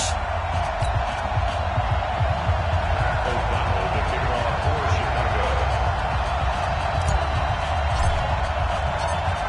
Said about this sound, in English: this crowd is pumped up as their Redskins get set to match up with the Chicago Bears